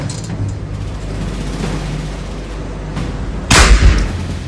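A single sharp gunshot from a 10/22 rifle fired during scope zeroing at an outdoor range cracks out loudly over steady background rumble, standing alone without talk.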